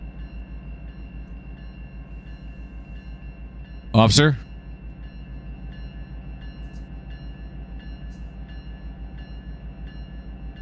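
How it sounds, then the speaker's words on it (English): Long freight train passing in Run 8 Train Simulator, a steady low rumble of rolling railcars with a constant mechanical hum, briefly interrupted by a short loud burst as a voice speaks over it. "This is one long train"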